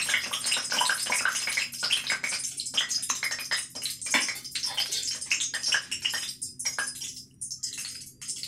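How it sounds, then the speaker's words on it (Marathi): Sweet water is poured into panipuri puris already filled with ragda, giving a close, uneven run of splashing and trickling with small clicks over several seconds. Nobody speaks. "त्यात आता आपण गोड पाणी टाकूयात"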